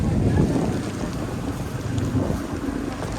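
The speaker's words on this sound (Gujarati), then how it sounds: "દરિયામાં ત્યાં થોડો પવન છે" Steady wind buffets the microphone on a fishing boat out at sea, a continuous rough rush with a low rumble beneath.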